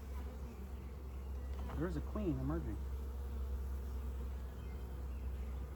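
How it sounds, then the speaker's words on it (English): Honey bees buzzing around a large hive, a dense continuous drone close by with individual bees rising and falling in pitch as they fly past, while a person speaks briefly over it. "these bees are not too bad. They're not been bothering us. They're just flying around."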